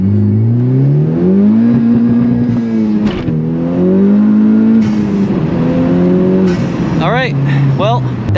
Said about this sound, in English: Now I'll floor it in first gear and see what happens.